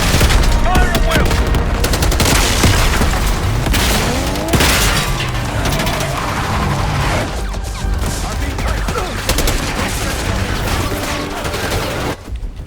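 Dense, loud gunfire in the Call of Duty: Black Ops 6 game, with sustained automatic bursts, booms and crashes over a cinematic score, and occasional shouted voices in the mix.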